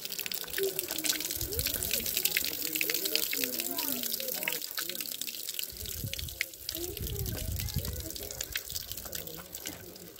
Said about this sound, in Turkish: Bu şekilde su deposuna su gitmektedir.